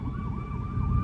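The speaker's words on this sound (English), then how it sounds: "And I apologize for that siren in the background." An emergency vehicle siren wails steadily in the background near a parked 2024 Ford Mustang GT Premium, its tone rising and falling over low rumbling traffic noise.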